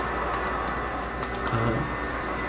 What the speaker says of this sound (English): they're like vacuuming the halls right now